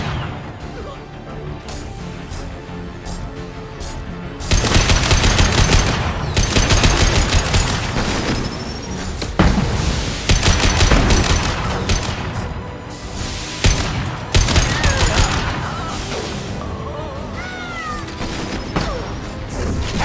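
Loud, dense gunfire from a Mass Effect 2 battle crackles in rapid overlapping bursts, mixed with impacts, whines and game music, starting quieter and then erupting into sustained shooting that continues to the end.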